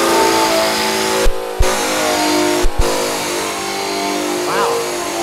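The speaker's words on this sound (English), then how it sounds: "when you hit the trigger, it's not, it doesn't start up like a cutoff grinder or something. It's going to have torque to it. It starts up with a nice ramp up speed" A six-speed paint and rust stripping tool spins up on metal, a steady motor whine broken by a couple of sharp clicks, with someone talking over it.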